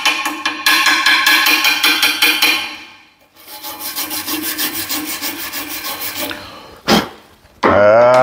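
A hand tool scrapes and brushes slag off a fresh weld joining two steel plates, steady rasping strokes that pause briefly, followed by a couple of sharper scraping sounds at the end.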